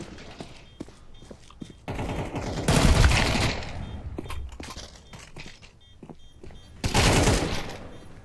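AK-47 fire in Counter-Strike, with two loud bursts of rapid automatic shots and scattered single cracks and quieter game clicks between them.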